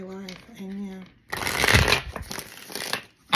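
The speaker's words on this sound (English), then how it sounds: "One more shuffle." A deck of playing cards is shuffled up close, with a few seconds of crisp, rapid riffling bursts that follow a short stretch of voice.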